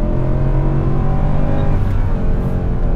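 A Mercedes W204 C63 AMG V8 engine revving loud and close from inside the car, a dense continuous roar that swells and eases slightly over a few seconds, no speech.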